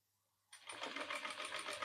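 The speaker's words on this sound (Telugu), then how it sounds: "ఇలా ఫస్ట్ మనం కుట్టేసుకోవాలనమాట" A sewing machine starts up after half a second of quiet and runs steadily, stitching a fabric latkan tassel with a fast, even mechanical whir and clatter that is close and fairly loud.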